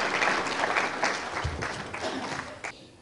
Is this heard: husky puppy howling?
no